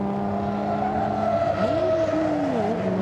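A race car at Goodwood SpeedWeek brakes hard and slides, its engine note sweeping and wavering loudly with tyre noise under a steady crowd-and-track hum.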